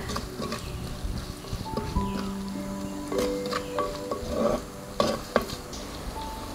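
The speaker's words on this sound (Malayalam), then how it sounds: "നന്നായിട്ടൊരു ചെറിയ ഗോൾഡൻ കളർ ആവുന്നോടം വരെ നന്നായിട്ട് നമുക്ക് വഴറ്റിയെടുക്കണം." Shallots and curry leaves sizzle as they sauté in a pan, with a steady frying hiss and repeated scrapes and clinks of a spoon stirring against the metal, close and fairly quiet.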